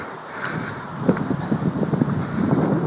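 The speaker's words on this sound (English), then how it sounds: "sorry if it's windy" Wind buffeting a microphone outdoors on a walk, a rumbling, gusty roar that builds slightly and stays constant, close and fairly loud.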